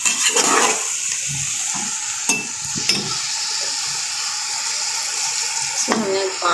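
A small amount of water splashes into vegetables frying in a pan for rice pulao, raising a steady hissing sizzle with a few stirring clatters near the start and end.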